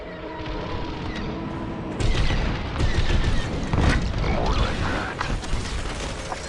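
Space dogfight in the video game Star Wars Squadrons, with a starfighter shooting at an X-Wing: repeated booming blasts and mechanical rumble over dense engine noise, loud and close, with no talking.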